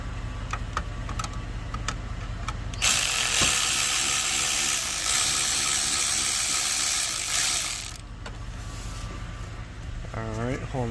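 Screws come out of a 1994 Chevy Caprice dash with a close ratcheting driver, rapid clicking bursts giving way to several seconds of dense, steady mechanical whirring, then quieter clicks and light handling noise.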